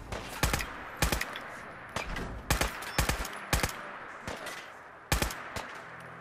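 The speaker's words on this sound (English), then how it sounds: "who's shooting me?" Rapid bursts of gunfire in Fallout 4, sharp close shots landing in clusters with brief pauses between them, each crack ringing out loudly over a low hum of game ambience.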